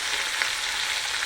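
Curry leaves and coriander frying in hot oil in a pan, a brief, even, close crackling sizzle.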